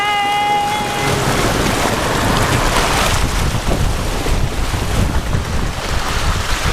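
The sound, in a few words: vehicle towed through a river, water splashing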